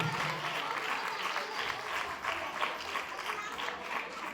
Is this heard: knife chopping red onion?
no